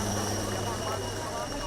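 An air force helicopter flies over a hospital while showering flowers, its steady droning rotor and engine noise filling the scene at an even, loud level throughout.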